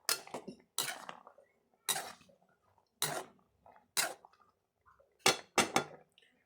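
A spoon or ladle clanks against a cooking pot while kangkong is stirred into shrimp sinigang, giving about eight separate metallic scraping knocks at an uneven rhythm, close and clear with no talk.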